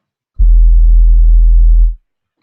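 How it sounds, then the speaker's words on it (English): A plain synthesizer sine wave tone sounds alone: one steady, loud, low pure note held for about one and a half seconds, then cut off cleanly. "So I usually start with a sine wave"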